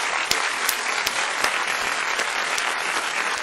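Dense, steady applause from a group fills the whole stretch evenly, with a few sharper individual claps and whoops poking out above the crowd noise.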